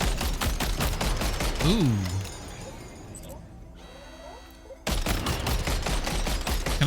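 Vehicle-mounted gunfire in the video game Death Stranding 2, a dense run of rapid shots that drops out briefly midway and then resumes, with a short exclamation from a player.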